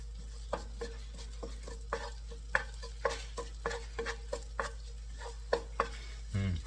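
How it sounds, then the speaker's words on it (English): Ginger and garlic stir-fry in hot oil, with a faint sizzle under a spatula's repeated scrapes and taps against the pan at an uneven rhythm, over a steady low hum of kitchen background noise. "We're gonna stir fry the vegetable, give them some flavor"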